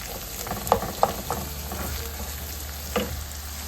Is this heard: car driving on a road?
no